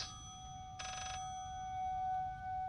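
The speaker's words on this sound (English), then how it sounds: "Now you hear the phone again." A telephone rings in the horror video game Layers of Fear, one short trilling burst over a steady eerie tonal drone and low rumble, with no talking.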